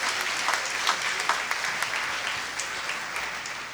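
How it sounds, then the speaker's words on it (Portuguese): A church congregation at a Passion service applauds the Lord, a full, sustained burst of many hands clapping with crisp individual claps poking through the steady roar. "Pode aplaudir o Senhor mais uma vez."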